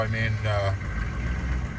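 A 1998 GMC K2500 diesel engine running at a high idle around 1100 RPM, a steady low rumble close by with someone talking over it briefly at the start.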